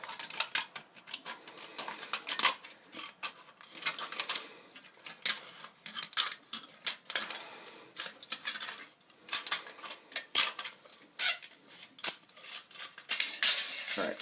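Scissors snip through a thin aluminium Monster energy drink can, cut up for a homemade alcohol stove: a close, rapid series of sharp metallic clicks and crinkles in irregular bursts, with no talking.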